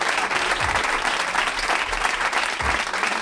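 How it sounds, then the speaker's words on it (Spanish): Studio audience at a comedy talk show claps loudly and continuously, a close, full burst of applause with no speech over it. "Así que un aplauso para Raúl."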